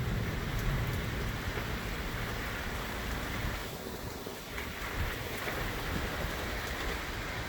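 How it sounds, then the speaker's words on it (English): Rain during a severe thunderstorm in Crossville, Tennessee: a dense, continuous hiss of falling rain with a gusty rushing quality, steady and enveloping from start to finish, with no voices. "Oh, it's raining."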